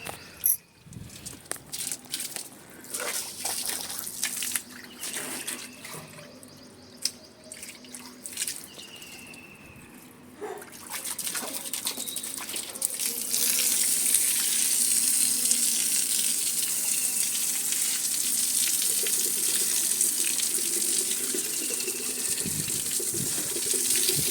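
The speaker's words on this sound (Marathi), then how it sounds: "त्यानंतर मी गॅलरी वगैरे धुवून घेते" A balcony floor is washed with water at home: a tap runs with scattered drips and splashes, then a steady hissing rush of water spreading across the floor, close and continuous with no talking.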